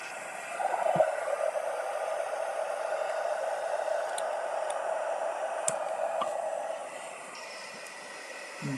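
A heat tool warms embossing paste, making a steady whirring blower hum with a low tonal drone and a few faint ticks throughout.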